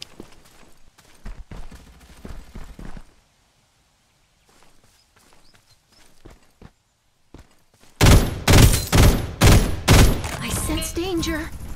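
Gunfire in the video game Farlight 84: scattered shots and footsteps at first, then after a short lull a loud run of rapid, punchy bursts, with voices talking in between.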